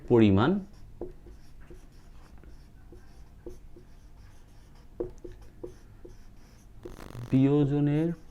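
A chemistry formula is written out by hand in soft, irregular taps and short strokes, quiet and close, with a person speaking briefly at the start and again at the end.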